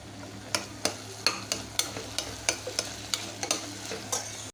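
Onions sautéing in a pan for mutton biryani, with a spatula striking the pan in a steady series of sharp taps about every third of a second over a continuous sizzle, close and clear with no talking.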